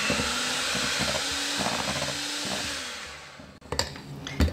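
An electric mixer whirs through gluten-free chocolate cake batter with melted white chocolate, a steady motor whine shifting in pitch as it works, then cuts off into a few knocks and clatters.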